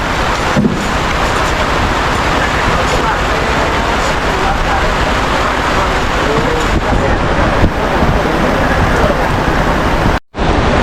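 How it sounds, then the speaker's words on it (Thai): Rain falls steadily on an open rocket festival field in Thailand, a dense continuous hiss that stays loud and even throughout, with a brief dropout near the end. "ฝนตกลงมานะครับตอนนี้ฝนตกลงมา"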